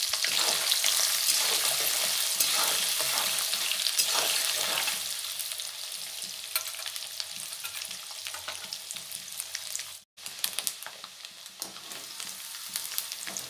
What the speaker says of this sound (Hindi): अब दे रही हूँ कटा हुआ नारियल, उसको ही ब्राउन कलर करके फ्राई कर लेती हूँ।